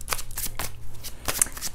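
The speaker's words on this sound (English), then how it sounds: "Okay, shuffling, giving a good shuffle." A deck of tarot cards being shuffled up close, with several quick riffling bursts in a loose rhythm, crisp and fairly loud, with no talking.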